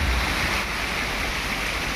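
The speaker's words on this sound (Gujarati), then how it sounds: "તો અત્યારે જો વરસાદ કેવો પડે છે." Heavy rain pours down in Morbi, a dense, steady hiss of falling water that stays even and fairly soft, with no voices.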